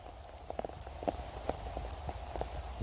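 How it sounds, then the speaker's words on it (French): Heavy rain falls steadily in a field during an October mushroom hunt, a constant wash of noise with scattered louder drops and taps striking nearby surfaces, with no one speaking. "Continue à pleuvoir, toujours aussi fort."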